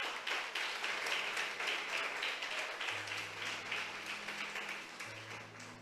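A church congregation applauds together during a sermon, a dense wash of clapping with a sustained low musical tone entering underneath partway through.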